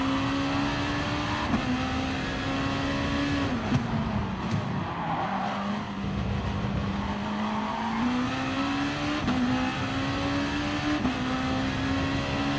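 Race car engine in Gran Turismo Sport, a steady loud drone that dips as the car lifts off and eases the revs through a corner, then climbs again with faint tire squeal, running continuously with no talk.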